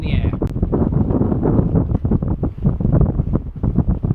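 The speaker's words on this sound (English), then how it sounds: "It is getting super windy up here." Strong wind buffets the microphone high on a swaying 56-metre lookout on a grain structure, a loud, continuous gusty roar with a short sharp knock near the start and no clear talking.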